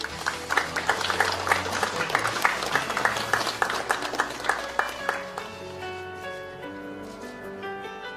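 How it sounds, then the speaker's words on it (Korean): Audience applause welcomes a university professor to the podium at a political party's economic advisory team launch ceremony; dense, loud clapping runs for about five seconds, then fades out as sustained music tones carry on. "여러분 큰 박수 부탁드립니다."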